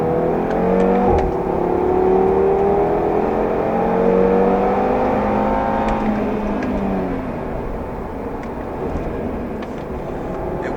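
A 2018 Audi TT RS engine pulls hard through the mid to upper revs, its rising harmonic tones sweeping upward steadily, loud and close, then easing slightly toward the end with no talking.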